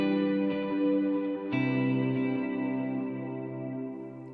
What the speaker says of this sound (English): And then with the plate reverb, and I've got the mix pretty high and the decay pretty high